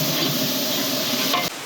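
Ginger garlic paste and two kilos of soaked green peas fry with browned onions in a large pot for mushroom biryani, a dense steady sizzle and stirring that drops abruptly near the end.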